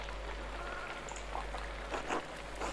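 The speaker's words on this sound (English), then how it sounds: "There's always a danger with this much rain" Steady rain falls in the video game Pentiment, a soft continuous patter and hiss with faint drops, heard quietly under a low hum.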